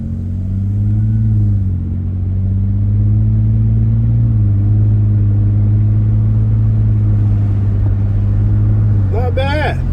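A daily-driver car fitted with a cheap $17 cat-back exhaust holds a steady low, throaty drone close by, with a slight dip and swell in engine pitch. A voice talks over it near the end.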